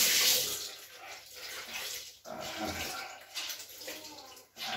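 Water runs from a tap during hand washing, a steady splashing flow close by with shifting intensity and a few brief pauses.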